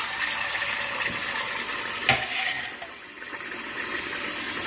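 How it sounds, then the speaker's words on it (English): Cold running water pours steadily into a pan of hard-boiled eggs with a broad hissing rush, one brief splash midway, then continues flowing. "add cold water."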